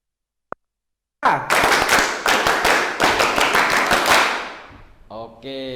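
A classroom group performs the Pramuka scout clap during a student-teaching lesson: loud, tightly synchronized rhythmic bursts of many hands clapping together for about three seconds, then voices as it ends.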